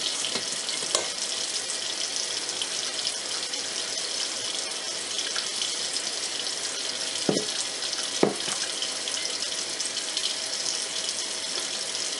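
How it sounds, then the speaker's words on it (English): Tap water runs steadily into a sink as hands are washed in a kitchen, a continuous close hiss with a couple of brief splashes and clunks, no voices. "Now I've got to wash up my hands"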